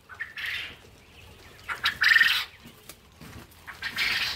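Quail on an egg-laying farm chirp and squawk in scattered bursts, with brief wing-flapping flurries between quieter moments, fairly close and moderately loud.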